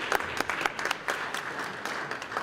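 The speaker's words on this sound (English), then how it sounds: "Let's give a broad and general round of applause" A crowd at a Free State youth parliament session claps in a steady, dense round of applause, close and fairly loud, with no speech over it.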